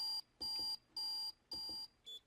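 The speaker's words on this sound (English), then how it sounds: "You tap this button and it puts test patterns out, so you can verify that everything is working correctly." A contest timer in test mode sounds its beeper: four evenly spaced electronic beeps about half a second apart, then a shorter fifth one, clear and alone with no voices.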